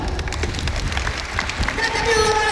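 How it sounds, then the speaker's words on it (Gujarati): An audience bursts into loud applause in honour of Bhagat Singh, a dense continuous clatter of many hands clapping, with a voice speaking over it. "આ માથામાં બેઠેલા બધાય જોરદાર તાળીઓ વગાડો"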